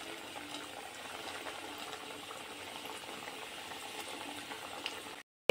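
Singaras deep-frying in mildly hot oil, a faint, even bubbling fizz that runs steadily and then cuts off abruptly near the end.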